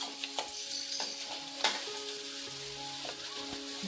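Garlic fries in a pan for a garlic curry, a close crackling sizzle broken by several sharp clicks of stirring, with no one speaking.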